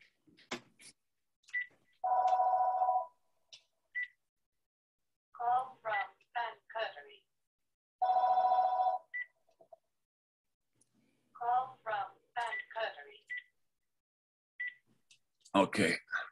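A landline telephone rings indoors in a ham radio shack, with several separate bursts of electronic ringing spaced a few seconds apart and brief clicks in between, and no one speaking.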